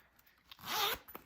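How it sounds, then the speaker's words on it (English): Zipper pocket on a handmade fabric bag being pulled open in one smooth, close rasping run lasting under a second, framed by small handling rustles. "So now when you open your zipper pocket here, the inside is all of that, right?"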